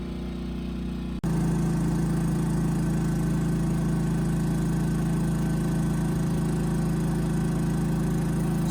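A Firman Dual Fuel 3200W generator running steadily in eco mode, a constant close engine drone with a low hum that starts abruptly after a brief quieter stretch and then holds even.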